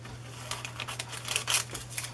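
Scissors snipping through card stock for an artist trading card, a series of small crisp cuts over a steady low hum, close and quiet with no voice.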